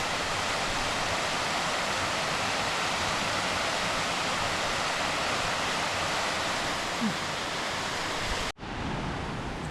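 Dense, steady rushing of a mountain creek on a foggy ridge trail near Mount Baker's Hogsback, loud and close with no talking, cut short by a sudden break near the end.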